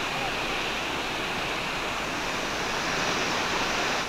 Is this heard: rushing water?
yes